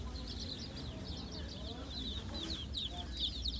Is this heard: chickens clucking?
yes